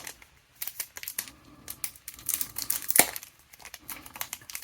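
A tiny piece of nail art foil is crinkled and handled close up during a nail art bag unboxing, giving sparse crisp crackles and rustles with one sharper snap partway through.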